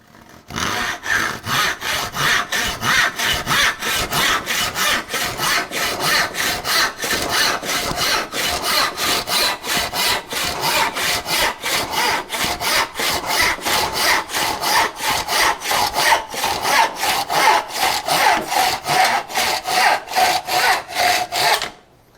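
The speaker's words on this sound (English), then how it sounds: "I just went back along it with my little diamond hone" A small diamond hone is rubbed along the edge of a hand saw blade in a fast, even back-and-forth rasp. Strokes repeat steadily and loudly up close for about twenty seconds, with no talk.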